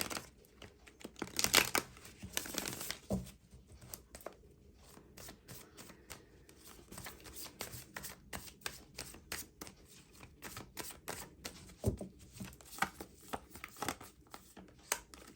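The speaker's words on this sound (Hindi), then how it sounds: "चार कार्ड्स निकाल रहे हैं" Tarot cards being shuffled and drawn from a deck during a reading, with repeated papery riffles, slides and crisp flicks close by, steady irregular bursts and no talking.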